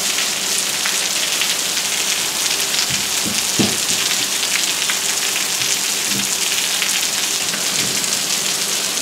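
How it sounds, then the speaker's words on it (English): Heavy rain pours down outdoors in a steady, loud hiss with dense patter on surfaces, a few low thuds partway through, and no voices. "I knew it was gonna rain hard."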